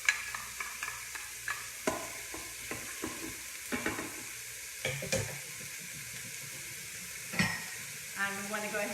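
Garlic and thyme sauté in a pot for a creamy asparagus soup, a steady sizzle under repeated stirring scrapes and light clinks of a utensil, close and moderately quiet, with no talking.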